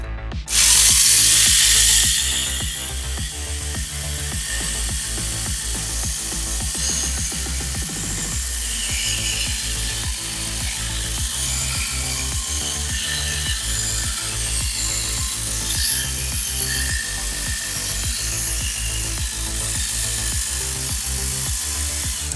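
A Mini 4WD car on an SFM carbon chassis with its original gearset runs continuously after a sharp start, a steady high-pitched motor whine with a fine gear buzz staying loud and even throughout.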